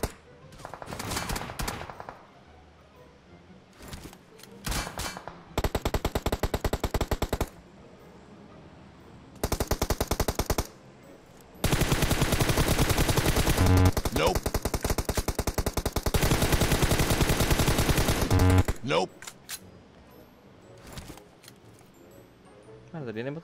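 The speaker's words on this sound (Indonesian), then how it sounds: "Dia nembak ke sana." Bursts of automatic gunfire in a battle royale shooter match, with long sustained volleys and shorter rapid strings separated by quieter gaps, loud and close, with players talking in between.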